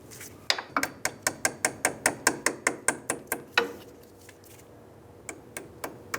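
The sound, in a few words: torque wrench tightening a castle nut on a 4Runner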